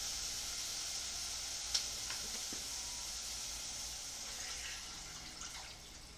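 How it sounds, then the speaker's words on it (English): Water pours into a cooking pot for Italian wedding soup, a steady sizzling, running wash that holds at even strength, with a sharp tap near the middle and stirring clinks toward the end. "then time to add the water"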